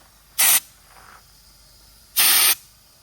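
Two short, loud bursts from a spray gun laying down a DIY truck bed liner coating, each a harsh broadband hiss lasting under half a second, separated by a quiet gap with a faint intermediate puff.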